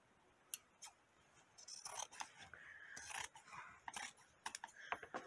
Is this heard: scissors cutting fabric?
yes